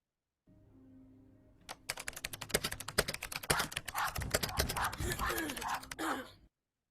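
Rapid computer keyboard typing, dense clicking that starts abruptly and runs for several seconds, with a breathy gasp or vocal sound mixed in toward the end.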